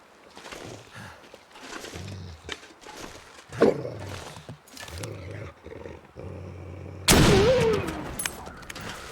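Rifle fire in the survival video game The Long Dark, with loud gunshot blasts, one sharp crack near the end, amid animal growls and roars from the game.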